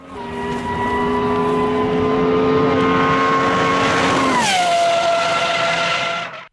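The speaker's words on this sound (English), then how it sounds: "the high-revving engine produces one of the most thrilling exhaust notes in modern automotive history" A naturally aspirated 6.0-liter V12 in a Pagani Huayra R track car howls at high revs in one loud, continuous note, then the pitch drops sharply as it comes off the throttle.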